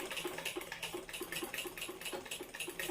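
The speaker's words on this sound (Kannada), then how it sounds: "ಈ ರೀತಿ ಮಾಡ್ತಾ ನಿಧಾನಕ್ಕೆ ನೀವು ಸ್ಟಿಚಿಂಗ್ ಅನ್ನೋದು ಮಾಡ್ತಾ ಹೋಗಿ" A sewing machine stitches through cloth with a fast, even run of rhythmic mechanical clicks. It is faint and steady, with no speech.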